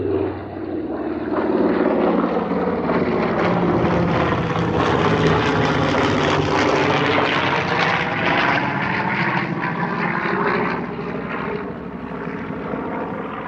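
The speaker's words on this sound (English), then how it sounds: "it looks like our plane is making its return" A WWII propeller airplane passes over a lake, its engine drone rising and swelling to a loud, steady roar overhead before slowly fading away, with no talking.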